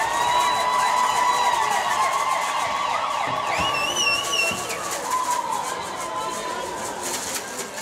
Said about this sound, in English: the sirens go here at Hagersville Arena